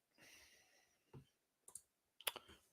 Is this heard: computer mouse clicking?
yes